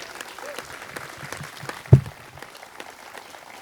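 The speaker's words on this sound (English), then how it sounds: "Please give her a round of applause." Audience applause at a Veterans Day ceremony in Cupertino, a soft, distant patter of clapping with one sharper knock near the middle.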